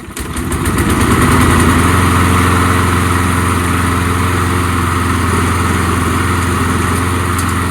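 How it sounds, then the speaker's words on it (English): A self-propelled lawn mower's small engine running steadily after starting, a loud, close, even drone that rises in the first second and then holds a constant buzzing note with no talk. "Start lawnmower."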